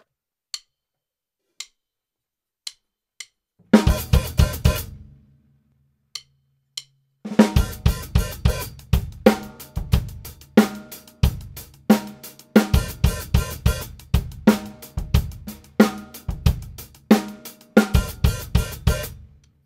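A few sparse clicks, then a tight, close soul-funk drum kit groove, with bass drum and crisp hi-hat, playing a repeating syncopated pattern after a short pause.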